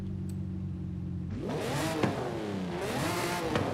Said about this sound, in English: That sounds like a V12 to me.